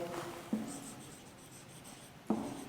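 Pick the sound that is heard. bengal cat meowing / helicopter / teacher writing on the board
teacher writing on the board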